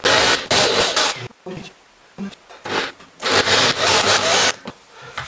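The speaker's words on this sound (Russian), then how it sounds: "Хорошо сверлит." Rough, grinding bursts of a drill biting into wood, starting and stopping in an uneven rhythm with short pauses between.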